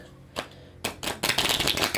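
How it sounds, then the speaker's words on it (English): Playing cards are riffle shuffled close by, with a few quick crisp flicks followed by a dense fluttering rattle as the two halves interleave, and no voices. "Learning to shuffle cards, 5 days of practice."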